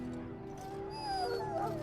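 A Mabari war dog in the Dragon Age video game gives a drawn-out, rising howl over a steady low game ambience, moderately loud and swelling toward the end with no talking.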